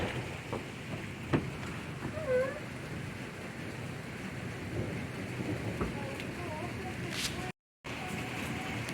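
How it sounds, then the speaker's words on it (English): Rain falls steadily during a thunderstorm, a constant hiss of downpour with faint rumbles, while someone talks briefly over it and the sound cuts out for a moment near the end. "It's raining now."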